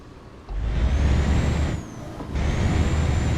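Upgraded diesel truck in Euro Truck Simulator 2, a heavy engine rumble with broadband roar that dips briefly and swells again, alongside a faint rising whine, loud and close with no talk.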